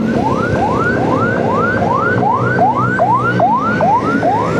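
A wailing ambulance siren sweeps up and down in a rapid repeating cycle, loud and close, over steady night traffic rumble.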